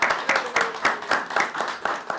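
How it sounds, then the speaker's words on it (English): A round of applause from the audience at a town council meeting, with steady overlapping clapping bursting in repeated waves throughout, fairly close and fully filling the space with no talk over it. "Let's give her a round of applause for all that."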